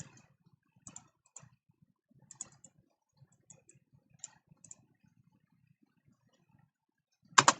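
Quiet, sparse keyboard typing: scattered soft clicks and taps at an uneven pace, ending with a louder clack.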